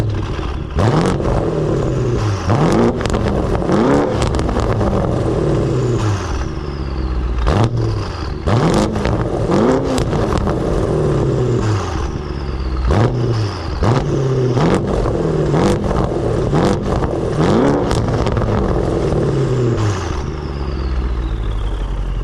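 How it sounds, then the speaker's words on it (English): A tuned BMW M550i engine revs repeatedly in loud bursts, rising and falling in pitch, dropping back to idle between each rev, close by. "I'll give you guys some revs"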